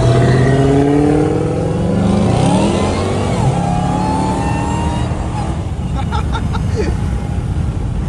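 A Dodge Hellcat Redeye revs and accelerates, with a loud close engine roar that rises in pitch through several shifts, while wind and road noise fill the cabin.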